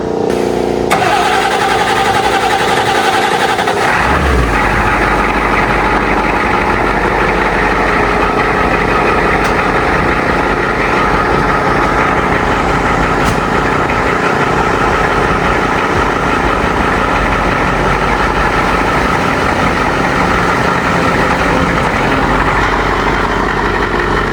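A 7.3 diesel engine, swapped in to replace a 460 gas engine, cranks and catches after a few seconds. It settles into a loud, steady, close-up rumbling idle that stays strong and even.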